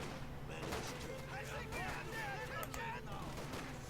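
Rifle fire crackles steadily through a Company of Heroes 2 battle, with dense overlapping shots in the distance and someone talking over the action.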